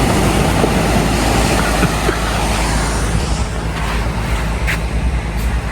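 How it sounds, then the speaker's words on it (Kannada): Ocean waves at a private beach make a loud, continuous broadband roar of surf washing in, steady throughout with no talk. "ಅಲೆಗಳ ಸೌಂಡು ಹೆಂಗೆ ಬರ್ತಾಯಿದೆ ನೋಡಿ"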